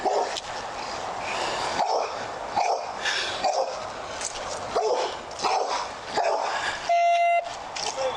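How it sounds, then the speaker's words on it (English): Several dogs bark, yip and whimper in repeated bursts, fairly close, with a brief high electronic tone near the end. "but the dogs are mauling the body"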